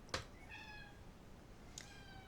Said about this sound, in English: And there's one of the cats.